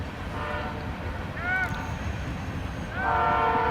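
A loud train passes near an outdoor soccer game, a rumbling roar with horn blasts sounding in short bursts, while voices talk faintly underneath.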